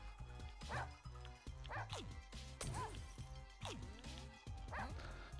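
A dog in a game yips and barks in quick separate bursts, fairly prominent amid clattering game noise, with some talking mixed in.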